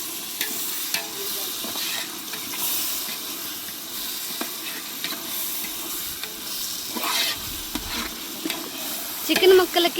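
Chicken pieces being stirred and mixed with masala and ginger-garlic paste in a hot pan for biryani, a steady low sizzle with scraping stir strokes throughout, no talk.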